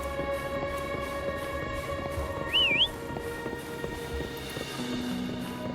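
A character whistles a short, rising two-note call in the video game Wuthering Waves, clear but brief over a steady bed of ambient game music and tones.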